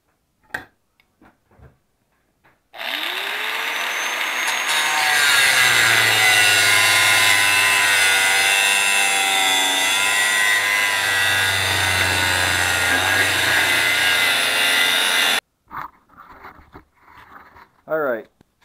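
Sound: grinder running

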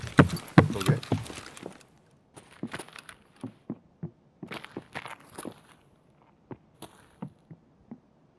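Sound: footsteps in video game Escape from Tarkov

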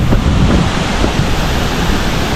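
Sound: waterfall roaring, spray reaching the speaker

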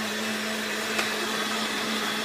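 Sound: blender making a mixed berry chocolate Shakeology shake

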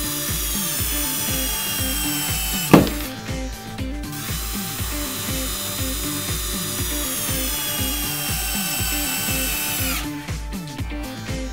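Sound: hardened steel Dynaplus screw being screwed in

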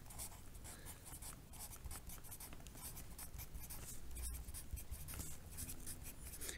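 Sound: writing math on paper

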